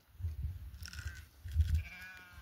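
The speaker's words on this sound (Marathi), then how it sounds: "तेव्हा आल्या मेंढ्या" Faint, distant bleating from a few animals, with soft low rumble of movement underneath and no talking.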